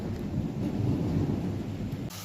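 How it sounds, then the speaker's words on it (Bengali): Low thunder rumbles continuously through steady rain, a broad, heavy roar that stays loud throughout and drops slightly just at the end. "এই দেখো শুনতে পাচ্ছ মেঘ ডাকছে"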